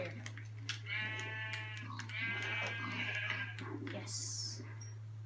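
Minecraft sheep bleat in a few short, wavering calls over a constant low hum, ending in a bright game sound effect.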